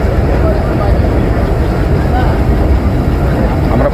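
An intercity train runs from Parbatipur toward Panchagarh, heard from inside the carriage as a loud, steady low rumble and rattle of wheels and coaches that stays even throughout.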